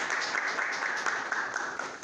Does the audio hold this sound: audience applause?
yes